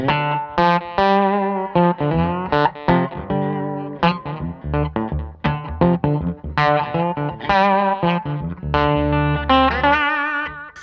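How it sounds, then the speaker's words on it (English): Electric guitar notes and chords played steadily through a slapback delay with no reverb, each attack followed by a quick single echo that gives a short, snappy doubled feel; no voices. "that gives me a slap back delay sound"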